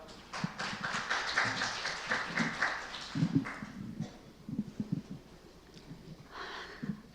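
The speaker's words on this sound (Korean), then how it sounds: "큰 박수 부탁드립니다." An audience at a Korean biotech policy forum gives a short round of applause that fades within a few seconds into scattered taps and shuffling.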